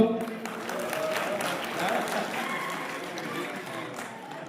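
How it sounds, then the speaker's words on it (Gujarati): An audience at a Kutch Prajapati community mass wedding cultural programme in Anjar applauds in a steady, moderately distant wash of claps that gradually tapers off toward the end. "તાળીઓથી વધાવી લેશો"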